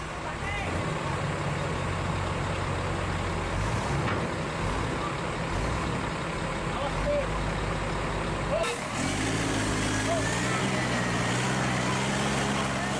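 Heavy equipment, including a grader unloaded from a lowboy trailer, works to recover a stuck truck, diesel engines droning and rumbling steadily, with a shift in engine note partway through.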